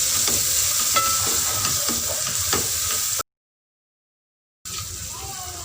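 Turmeric and crushed red chilli being stirred in a hot pan, a steady sizzle with a few soft scraping strokes, interrupted by a brief silent gap before the frying hiss returns.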